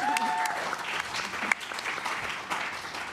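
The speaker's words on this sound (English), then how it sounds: "You can clap for that." A show-production audience at Full Sail University applauds a hall of fame inductee. The clapping is fairly soft and continuous, with a faint voice briefly audible beneath it.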